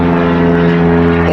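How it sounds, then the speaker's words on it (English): An airplane drones overhead with a loud, steady propeller hum carrying strong tonal layers, continuous and alone without speech. "The air traffic is really heavy right now."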